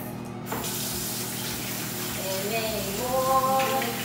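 Water runs from a tap as hands are rinsed, a steady close spray and splash that gets slightly louder toward the end, while a voice hums or sings faintly over it.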